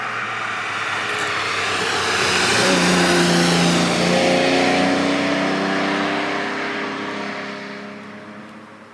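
A Ferrari 330 GTC V12 revs while driving, its engine note swelling loud and smooth through the middle of the run before easing slightly, a continuous rising and falling howl with no voices.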